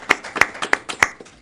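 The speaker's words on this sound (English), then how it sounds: "a round of applause" At a city council meeting, a few people clap close by in a brief, sparse round of applause: four or five distinct, fairly loud hand claps at an even pace, fading at the end.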